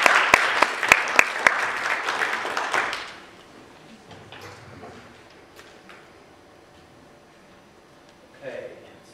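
A forum audience at the 2011 NZ Diversity Forum claps in welcome, starting with a few sharp close hand claps swelling into brief applause that fades after about three seconds into quiet room noise and shuffling.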